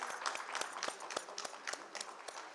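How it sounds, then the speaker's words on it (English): Audience members at a conference inauguration clap for a guest of honor receiving a memento; the applause is fairly light and uneven, with distinct individual claps standing out rather than a dense roar. "A round of applause,"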